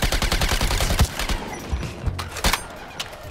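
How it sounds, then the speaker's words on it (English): Rapid bursts of automatic gunfire in Suicide Squad Kill the Justice League, a dense stream of sharp shots with a few heavier cracks standing out, loud and close in a chaotic firefight. "Excuse my bullet spread, Deadshot."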